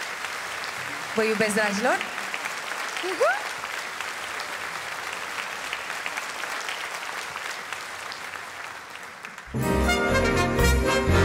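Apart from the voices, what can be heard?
concert audience applause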